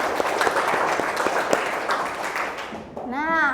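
Schoolchildren in an Indonesian classroom clap together in a brisk, dense burst of applause that fades out, after which a voice begins to speak.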